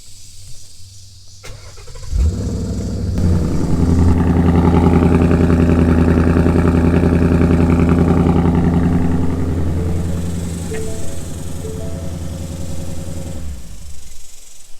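A 2017 Ford Mustang GT with a Ford GT350 conversion cranks and fires up for its first start, then settles into a loud, deep, steady rumble that eases slightly before cutting off, with no talking.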